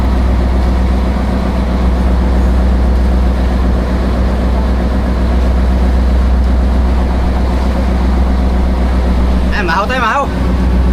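A boat's engine runs steadily on the Pacific Ocean during a fishing outing, a loud, continuous low drone with a brief voice near the end.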